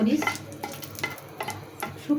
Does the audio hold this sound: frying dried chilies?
yes